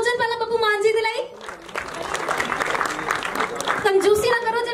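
An audience at a promotional event applauds for Punjabi actor Babbu Maan, a stretch of dense clapping sitting between passages of a voice over amplified sound, moderately loud.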